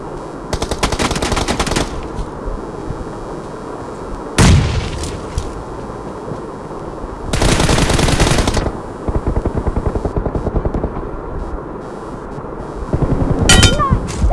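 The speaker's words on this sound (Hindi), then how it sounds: "शॉटगन मार रहा है निकाल के" Gunfire in the mobile battle royale game BGMI comes as loud bursts of rapid shots, some sustained rattling strings and some single sharp blasts, with quieter gaps between them.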